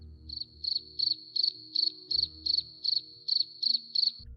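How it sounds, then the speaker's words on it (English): Crickets chirping in a steady rhythm of about a dozen evenly spaced bursts, clear and close against a quiet, faint background hum. "It is literally nothing. It is crickets."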